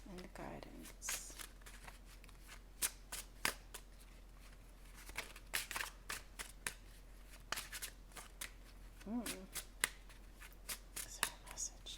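A deck of cards is shuffled repeatedly in quick riffling bursts, close and fairly quiet, with sharp snaps as the cards settle.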